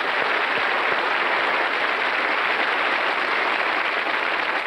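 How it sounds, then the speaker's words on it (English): Studio audience on a 1995 television game show applauding and cheering the final four contestants, a steady, dense wash of clapping that stays loud and even throughout with no talk over it. "Let's give them a big cheer and a lot of encouragement."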